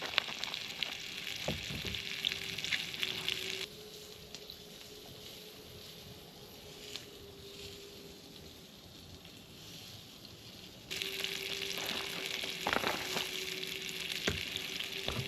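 Vegetables frying in a camping pan at a solo motorcycle camp, a steady hissing sizzle that drops quieter midway then returns loud, with a low hum underneath and occasional clicks, no voices.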